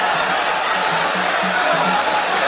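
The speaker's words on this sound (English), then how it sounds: "An uproarious crowd." An uproarious crowd of about 17,000 at a boxing match in Lubriel Stadium, Bayamón, Puerto Rico, roars continuously in a loud, dense, unbroken wash of noise, with a voice over it.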